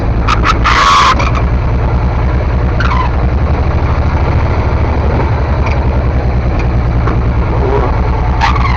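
A 1952 car's loud, rough engine rumbles steadily at close range while reversing, with a brief squeal near the start and faint clicks and creaks as the car moves.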